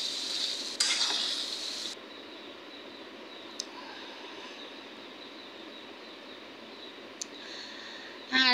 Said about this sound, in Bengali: মাংসগুলো এইভাবে কষাবো,